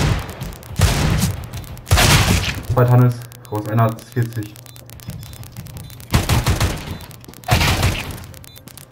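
Rapid gunfire bursts from a Counter-Strike match, Glock pistol in use, crackle in several loud bursts across the clip, with excited German talk between and over the shots.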